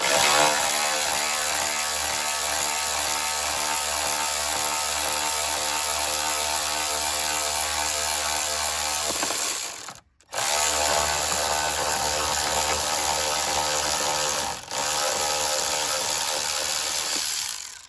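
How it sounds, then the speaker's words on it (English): A power tool whirs and ratchets loudly and continuously while backing out a long bolt during a Chrysler Pacifica start/stop battery replacement, pausing briefly once before running on at full speed. "if you got power tools, I'd use them"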